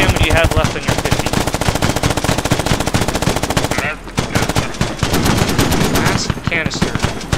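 .50 caliber machine gun firing long, loud, rapid bursts at close range, with a brief pause midway before the firing resumes; voices speak over the gunfire.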